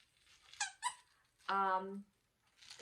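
A squeaky plush sea turtle toy gives short squeaks and then one longer, wheezy squeak, close to the microphone, with soft rustling between.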